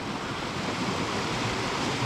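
A waterfall where a whole river pours through a narrow gap in Scotland, heard as a loud, continuous rushing roar, close and steady, with no voices.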